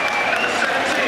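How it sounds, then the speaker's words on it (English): A large football stadium crowd at an FA Cup match between Southampton and Arsenal roars and applauds in a dense, sustained wash of noise. "And listen to the crowd."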